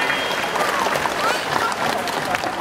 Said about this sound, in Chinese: 再给红队一次掌声鼓励。